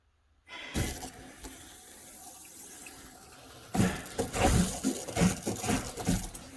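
A bathtub faucet sputters and gushes as air is pumped out of the line, starting with a burst, then steady flow, then a run of uneven spitting surges, close by with no talk.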